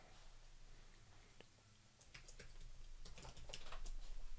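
Quiet keystrokes tap on a computer keyboard as a password is typed, a few isolated clicks followed by a quicker run of soft taps, faint against low room hum.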